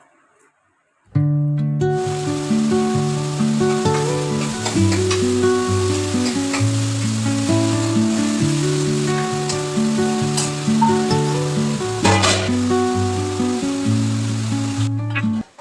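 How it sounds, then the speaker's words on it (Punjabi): Vegetable tempering with onions sizzles steadily in a hot pan, a continuous frying hiss that runs nearly the whole time beneath prominent melodic background music. "ਮੈਂ ਲੱਗ ਗਈ ਸੀਗੀ ਸਬਜ਼ੀ ਨੂੰ ਤੜਕਾ ਲਗਾਉਣ"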